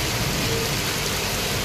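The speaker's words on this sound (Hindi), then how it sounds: "बारिश का हम मज़ा ले रहे हैं अभी, हम देख रहे हैं बारिश का पानी कहाँ कहाँ जा रहा है" Monsoon rain pours steadily onto a waterlogged road in India, a dense, continuous hiss of falling water that stays loud and even throughout, with no voices.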